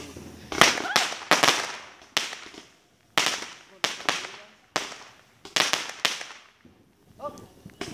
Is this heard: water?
no